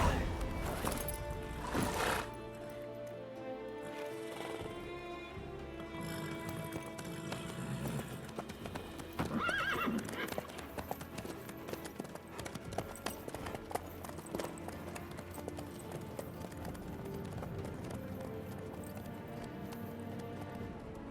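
A horse in The Witcher 3 gallops along in a steady clip-clop of hooves under background music and occasional talking, with a brief whinny early on.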